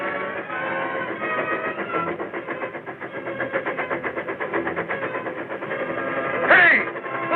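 A train rumbles steadily with a rhythmic clatter of wheels on track, then a short whistle sounds near the end.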